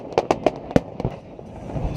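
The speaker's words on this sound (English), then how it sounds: "nothing beats fireworks over the water" New Year's fireworks over the water in Sarasota crack and pop in a quick run of loud bursts, then fade to rumbling echoes and distant crackle.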